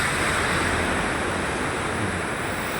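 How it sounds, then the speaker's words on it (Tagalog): Continuous broadband roar of sea waves and surf, close and loud, with wind buffeting throughout and no distinct breaks. "Yung dagat yan. Siyempre, dagat."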